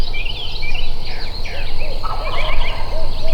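A wild turkey gobbler roosted at the edge of woods gobbles while a hen yelps, rapid rattling calls overlapping in bursts from a distance over a faint outdoor background.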